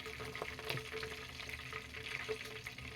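Whole cloves fry in hot oil for Dindigul-style seeraga samba biryani, giving a steady, soft crackling sizzle with small pops throughout, close and fairly quiet, with no voices.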